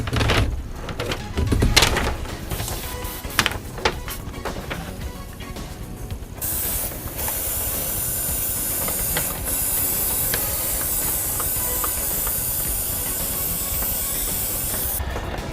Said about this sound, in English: And I put it in my airbrush.